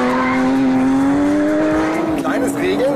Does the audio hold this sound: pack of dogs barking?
no